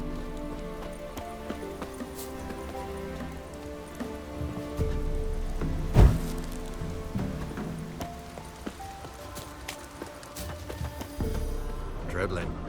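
Steady rain pours down in The Witcher 3 game world, a dense hiss running through the whole stretch, with horse hooves clopping and a loud thump partway through; voices speak over it.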